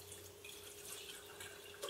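Liquid base for a smoothie poured into a container, a soft continuous trickling and dripping at low level, close by, with no talk.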